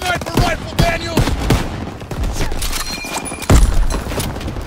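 Rapid gunfire bursts and heavy booms crackle through a World War II battle in Call of Duty WWII, loud and close, with shots in quick irregular volleys.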